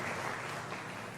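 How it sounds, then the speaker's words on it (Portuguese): Church congregation applauding during a worship service, a soft, even wash of many hands clapping at a distance, steady throughout the short moment. "Aplauda o Senhor e glorifique o seu nome."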